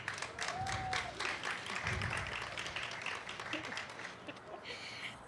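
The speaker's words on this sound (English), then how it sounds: "Can we please give them a round of applause?" Scattered audience clapping at an outdoor Somali Independence lighting ceremony after a performance, fairly faint and uneven, with crowd murmur and a brief voice mixed in.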